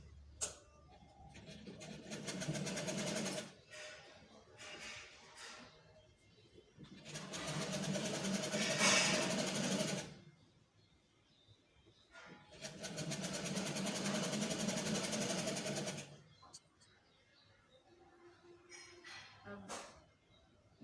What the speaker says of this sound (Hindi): मैं इसके सिरे पे सिलाई लगा लूँगी इस तरह।